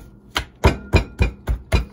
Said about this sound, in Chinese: 用刀背拍一拍它